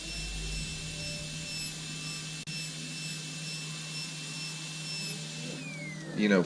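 A ball burr spinning on a high-speed rotary tool grinds steadily as it textures metal, a continuous high whine with a constant low hum underneath, swelling louder and harsher at the very end.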